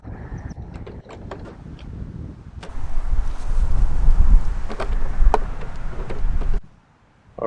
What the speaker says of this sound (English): we got a really terrible day today with the wind